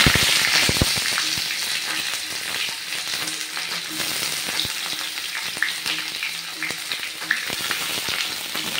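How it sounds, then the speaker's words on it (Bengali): Chopped onions fry in a pan with a steady loud sizzle, broken by frequent clinks and scrapes of stirring, all close up and with no talking. "পেঁয়াজ কুচিটা দিয়ে আমি ভালোভাবে নেড়ে চেড়ে এটা ভেজে নিই।"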